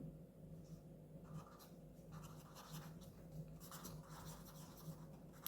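Pen or marker writing out a class 10 real-numbers math solution, a steady continuous scratching of strokes with short pauses between letters, fairly close and moderately quiet, with no talking.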